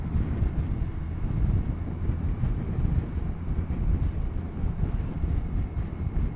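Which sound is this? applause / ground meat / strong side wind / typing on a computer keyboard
strong side wind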